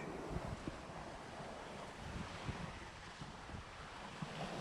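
Ocean surf rolls in at a rocky beach ahead of Tropical Storm Ernesto, a continuous quiet wash of waves mixed with gusty wind buffeting the microphone, with no one talking.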